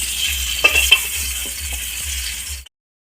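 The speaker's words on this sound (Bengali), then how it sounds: "দেখতে পাচ্ছ দিদি এখন এখানে আলু ভাজছে" Potatoes frying in a pan, a steady close sizzle with a couple of light clinks of a utensil, cutting off abruptly near the end.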